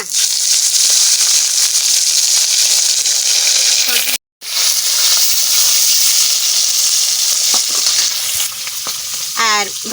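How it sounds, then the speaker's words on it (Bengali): Whole tilapia fries in a hot wok with a loud, steady sizzle and hiss that carries nearly all the way through, cut by a brief gap partway and ending with sharper spitting crackles. "এক খোলা মাছ বসাই দিই কড়াই দেখো গরম হয়ে গেছে"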